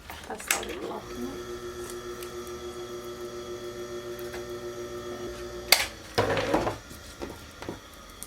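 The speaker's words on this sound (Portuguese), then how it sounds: "Eu vou passar overlock." An overlock sewing machine stitches a raglan sleeve, a steady mechanical whir with regular fine ticking that runs for several seconds, framed by someone talking and some fabric handling before and after.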